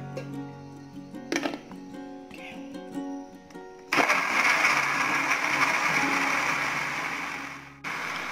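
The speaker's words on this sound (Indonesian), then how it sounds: "Untuk bumbu masak habangnya ini bener-bener di blendernya harus sampai halus ya teman-teman" An electric blender whirs loudly and steadily as it grinds spice paste for masak habang, starting up after a few seconds of quiet clinks and a low hum.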